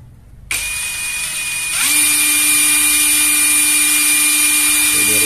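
A Dagmara D3301 impact wrench starts with a sudden whine, then climbs to a steady, loud high-pitched hum as it runs in the loosening direction. The motor tone holds constant without pause.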